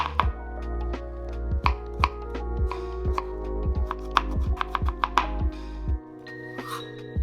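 A knife roughly chops peeled garlic on a cutting board, about twenty sharp, uneven knocks close by over a faint background hum, ending with a short clink.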